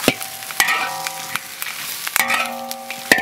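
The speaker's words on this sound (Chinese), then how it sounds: "锅烧热了，把这个辣椒全部下进去" Large, heavy chili peppers are stir-fried dry in a hot wok, crackling and sizzling up close while a spatula strikes the metal in sharp, ringing clangs at an irregular pace.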